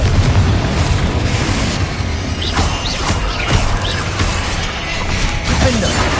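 Confringo explosive spells cast in the Hogwarts Legacy video game, a dense run of booming blasts and crashing impacts layered over a constant loud rumble, one burst following another with no pause.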